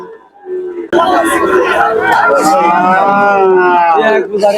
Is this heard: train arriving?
no